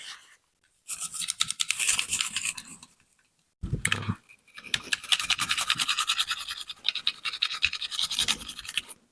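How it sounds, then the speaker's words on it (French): A toothbrush scrubs the parts of a disassembled KelTec P17 pistol to clear powder residue after about fifty rounds, with close, rapid bristle scratching in two long bursts broken by a short pause. "On frotte, on vient bien frotter partout."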